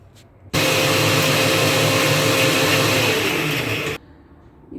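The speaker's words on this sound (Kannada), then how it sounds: "ಇದಿಷ್ಟನ್ನು ಇವಾಗ ರುಬ್ಕೋತೀನಿ" A kitchen mixer grinder grinds sambar masala in a mixie jar, a loud steady whirring roar that starts abruptly, runs about three and a half seconds and cuts off sharply, with quiet room tone before and after.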